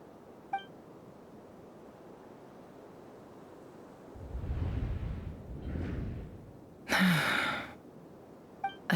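Someone gives a sharp breathy gasp in a video game, a brief intake of breath. A soft electronic beep sounds before it and a quieter whoosh plays around it.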